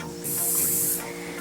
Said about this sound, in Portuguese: Vou utilizar o Light Spray, sempre agita antes de usar.